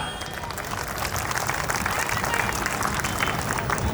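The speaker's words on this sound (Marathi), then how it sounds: "जोरदार टाळ्या" An audience at an Ambedkar Jayanti gathering in Nagpur breaks into loud, sustained applause, a dense wash of many hands clapping together that holds steady and close throughout.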